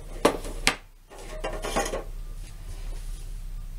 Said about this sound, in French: je vais connecter ça,